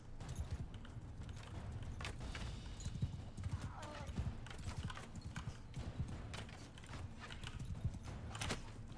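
Horse hooves clip-clop in a dark medieval combat video game, a brisk irregular run of hoofbeats with an occasional whinny and creaking, close and steady over background noise.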